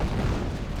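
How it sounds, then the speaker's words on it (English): Landmine detonating in the World War II strategy game Company of Heroes: a short, deep, rumbling boom heard alone, heavy in the low end and lasting under a second. "Landmine detonated there."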